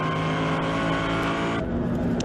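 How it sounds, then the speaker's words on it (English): Onboard engine roar from a Mercedes GT race car during a British GT round at Silverstone, loud and continuous with a steady high-revving drone and a brief shift in pitch partway through. "You're on board with Hetherington, glorious noise from the Mercedes."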